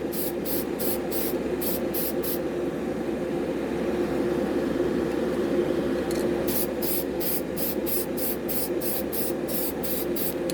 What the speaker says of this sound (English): We're just going to get some primer on this.